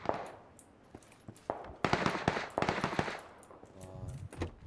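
Rapid automatic gunfire in the battle royale game PUBG, bursts of shots crackling in clusters with bullets flying past, loud and close, some quieter distant volleys between.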